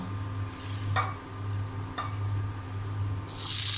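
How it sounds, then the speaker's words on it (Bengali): Eggplant chops frying in hot oil in a home kitchen, giving a steady, close sizzling hiss throughout, broken by a few soft clinks of a utensil against the pan. "এখানে যে বেগুন কেটে রেখেছি, বেগুনের চপ ভাজি করব"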